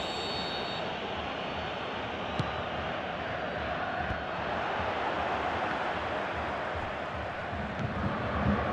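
Stadium crowd noise in the football video game Pro Evolution Soccer 2017 during a Chile versus Germany match, a steady broad roar that holds at an even level throughout with no talk over it.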